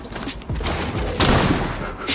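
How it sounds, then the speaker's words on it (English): A burst of gunfire from a Rainbow Six Siege trick shot, with rapid reports followed by a louder sharp blast near the end, up close and loud, and a faint voice underneath. "I'm gonna trick shot him."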